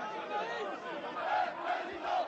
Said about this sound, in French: la foule célèbre le 1er mai le succès électoral de Jean-Marie Le Pen